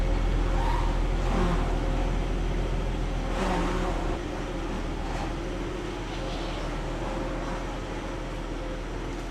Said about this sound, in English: we are cruising the 300ZX today